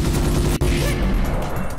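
A grenade detonates in the Ghost Riders video game, a loud dense burst of game noise with a sharp break partway through, followed by a rumbling tail.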